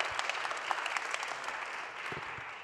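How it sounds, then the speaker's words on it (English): An audience at a cancer conference session applauds a speaker, dense clapping that stays steady and fairly close for a few seconds. "We can applaud Aina."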